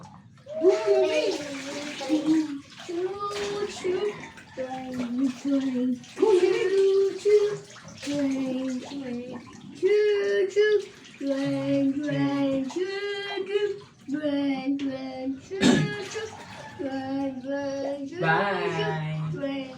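Water splashes and pours during children's bath time, with a child and an adult talking and calling out over the intermittent splashing throughout.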